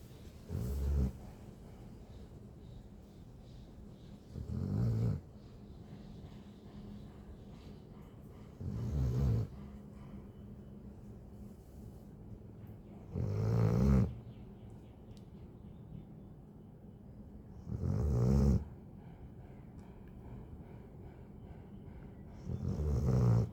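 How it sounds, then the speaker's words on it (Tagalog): Slow, regular snoring from a freshly groomed dog, six deep rumbling snores spaced about four seconds apart, close and fairly quiet between breaths. "Ang lakas ng hilik."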